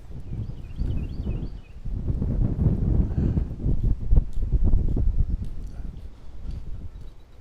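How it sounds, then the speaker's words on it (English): Steady west-northwest wind buffets the microphone, rising and falling in gusts with a rumbling low roar throughout, outdoors and close, at the Speonk Long Island Rail Road station. "Wind right now is out of the west-northwest, gusting."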